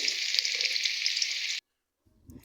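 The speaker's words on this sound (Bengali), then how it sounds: "আলুগুলো ভালো করে ভেজে নিচ্ছে" Potatoes frying in hot oil give a loud, steady bright sizzle for about a second and a half, then cut off abruptly to near silence before a faint low clatter.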